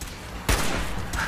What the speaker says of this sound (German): da können wir doch mal unser schönes Sniper ausprobieren